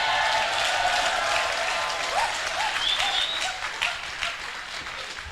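Audience applauding during a sermon, broad sustained clapping from a large crowd that gradually thins and fades, with a few faint cheers or voices rising briefly within it.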